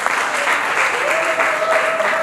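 Audience applause for the performer Sila at a live stage show in Lubumbashi, a dense, steady clapping that fills the whole moment with no let-up.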